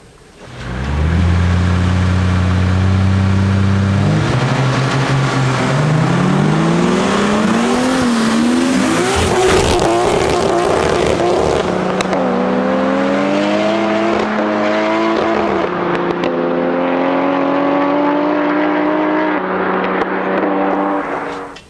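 Cars at the Lahti Open drag race on a straight public road, engines roaring loudly through rising gear changes, revving and accelerating hard without pause, with no talk over them.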